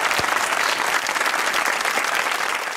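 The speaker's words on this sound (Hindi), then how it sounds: "ताली होनी चाहिए कैप्टन अली के लिए।" Loud, sustained studio-audience applause for Captain Ali on the comedy show Hasna Mana Hai Eid special, a thick, even wash of clapping from start to end with no voices over it.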